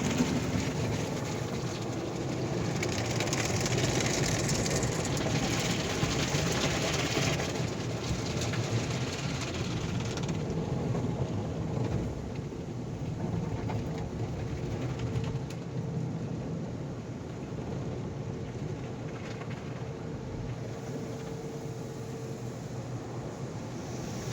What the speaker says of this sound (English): You can hear the water dripping and washing our car.